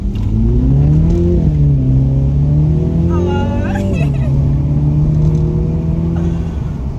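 A Mini Cooper's engine revs while driving, a loud, close drone that climbs, holds and falls in pitch, with a person talking over it inside the car.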